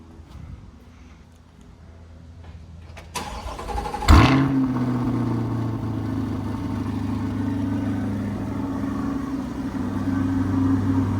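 A Chevrolet C8 Corvette cold-starts with a sharp starter crank and loud flare of revs, then settles into a steady, rumbling high idle close by, after a few quieter knocks and rustles beforehand.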